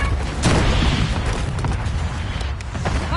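A UAV is shot down and destroyed in Black Ops 6, a loud burst and boom soon after the start over constant battle noise, with smaller pops following.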